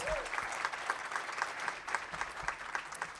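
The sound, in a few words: applause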